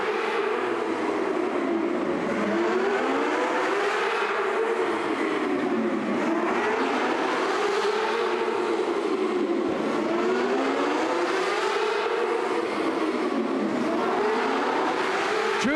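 Non-winged mini sprint cars racing indoors after the green flag, a pack of small engines whining as they rise and fall in pitch lap after lap, loud and continuous in an enclosed arena.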